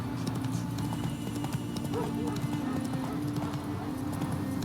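Hooves of Roach, the horse from The Witcher 3, clip-clop in a steady, even rhythm at close range, with a soft snort partway through and low game ambience beneath.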